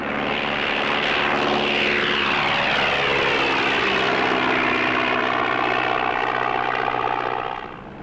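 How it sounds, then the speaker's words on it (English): A propeller-driven light plane takes off from the open tundra, its engine roaring loud and steady throughout with a rising pitch sweep, then easing off at the very end. "The plane takes off to fetch another load of stores."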